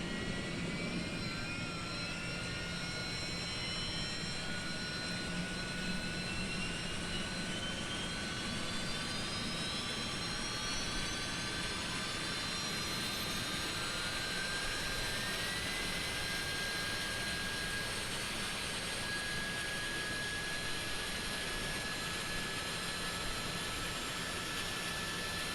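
Airbus A300 jet engines running steadily in a flight simulator game, a continuous loud whine with rising tonal sweeps over a broad roar, holding for the whole stretch without speech.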